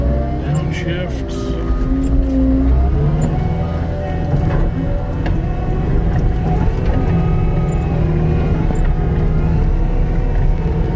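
A Cat 289D skid steer's diesel engine rumbles low and loud nearby, its pitch sliding as the machine shifts down from high gear. A voice speaks over the engine.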